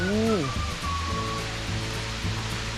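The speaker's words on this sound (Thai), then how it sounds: "โอ้บรรยากาศมีน้ำตกด้วยครับผม" A waterfall rushes near a cliffside temple at Wat Khao Tham Thiam in Suphan Buri, a steady broad hiss heard up close, with a voice briefly speaking over it at the start.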